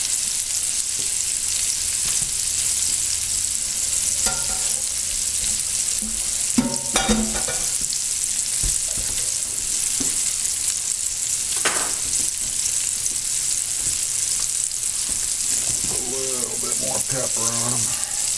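Venison balls sizzling in a frying pan, a loud, constant close-up hiss with occasional pops and utensil clinks, while someone talks intermittently over it.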